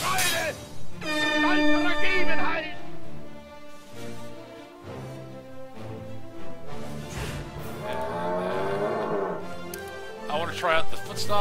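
The Horn of Irritation sounds in the South Park: The Stick of Truth video game, blaring air horn blasts and game effects heard over a player talking almost continuously.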